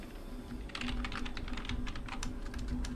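Rapid keystrokes on a computer keyboard while entering Excel shortcuts such as Shift plus Space, a steady run of close, moderately quiet clicks with no talking.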